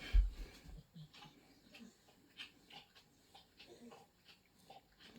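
A dog rolls around on the floor indoors, making soft scattered rustles, thumps and snuffling breaths close by, with a louder bump at the start.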